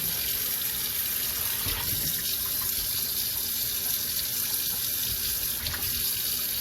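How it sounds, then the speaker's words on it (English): A kitchen tap runs continuously as a greasy pan is rinsed under it, water splashing steadily and close with brief clatters against the metal, no voices. "I rinse my pan off, and I put them back in"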